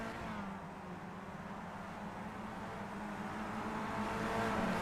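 Race cars battling on the Okayama International Circuit in a racing video game, a steady, droning engine roar with layered revving tones that builds slightly, with no speech.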